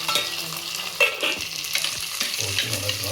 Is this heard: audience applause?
no